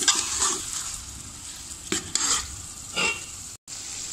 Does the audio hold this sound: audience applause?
no